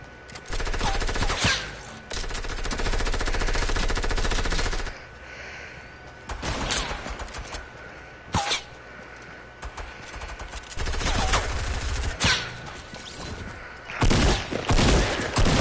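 Bursts of submachine gun fire in a video game crackle loud and near in repeated volleys separated by quieter gaps with faint background game sounds.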